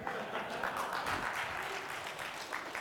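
Applause from a conference keynote audience at a Linux event, a steady dense patter of many hands sustained throughout at moderate level, with no voices standing out.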